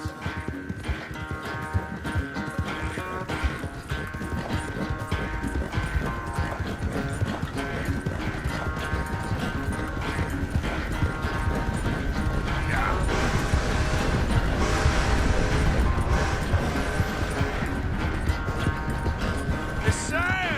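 Horse hooves clip-clop in a steady rhythm in Red Dead Redemption II. Mechanical rattles and game music run alongside, and the hoofbeats get a little louder toward the end.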